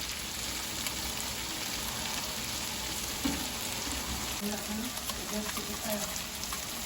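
Onion and garlic fry for Jamaican-style shrimp fried rice, a constant dense sizzle with occasional faint stirring clinks, with quiet voices faintly underneath.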